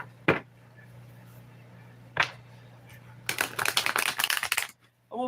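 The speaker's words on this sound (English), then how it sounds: "Let me shuffle the deck and see." A tarot card deck being shuffled, with a couple of isolated card snaps early on, then a dense riffling burst of about a second and a half near the close, close-up and moderately loud over a steady low hum.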